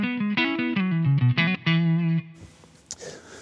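An electric guitar through a Simplifier MK2 pedal set to its AC Brit amp type plays a quick run of distorted, reverb-tinged notes, then stops into a noisy, scratchy tail.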